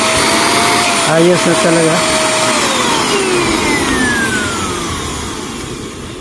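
Repaired Derma portable vacuum cleaner with a steel filter running steadily, a continuous loud motor whine that sags and drops in pitch toward the end, with a brief spoken remark over it.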